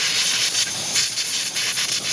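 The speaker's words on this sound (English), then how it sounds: "Air compressor is really helpful." An air compressor blasts air through a carving chainsaw to clean it, a loud, close, continuous hiss with slight fluctuations throughout.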